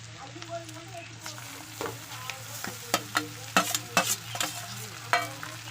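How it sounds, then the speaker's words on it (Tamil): Rice being stirred in a pan with oil and fried onions gives a low hiss under a series of crisp spoon scrapes and knocks that grow louder and more frequent toward the end. "இப்போ நம்ம இந்த சாப்பாடு, எண்ணெய், இந்த நம்ம செஞ்சு வச்ச வெங்காயத்தோட எல்லாம் நல்லா மிக்ஸ் பண்ணி விட்டுக்கலாங்க."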